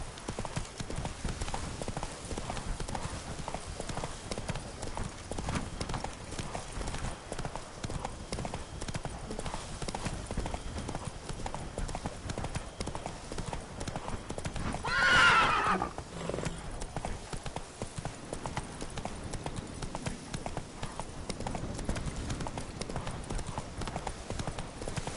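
Hooves clip-clop in a rapid rhythm as a horse gallops in The Witcher 3 Blood and Wine video game, and a horse whinny rises briefly midway over the steady hoofbeats.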